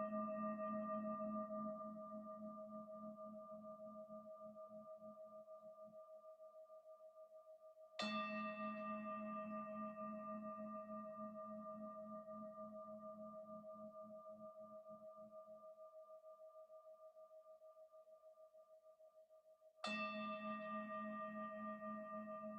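A single bell rings out three times, each strike clear and resonant, fading slowly over several seconds before the next, with nothing else around it.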